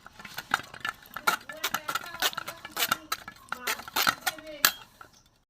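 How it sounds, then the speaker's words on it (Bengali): Raw green mango pulp being strained through a sieve for mango candy produces a series of sharp metallic clinks and scrapes in an irregular rhythm, close and fairly quiet, with brief bits of voice between them. "আমি ছাঁকনিতে ছেঁকে নেব।"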